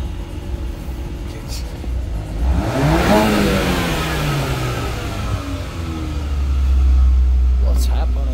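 A damaged engine in a 2021-model car revs up and down with a rising and falling whine, loud and close, with a steady low rumble building toward the end.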